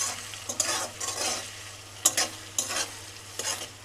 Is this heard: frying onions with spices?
yes